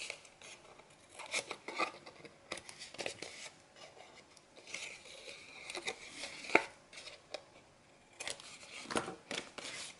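Repeated crisp snipping and slicing sounds with soft rustling between cuts, close and fairly quiet, as scissors trim paper at an angle for a scrapbook photo album.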